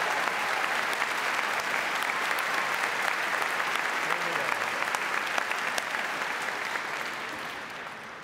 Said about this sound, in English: let's give these young folks another round of applause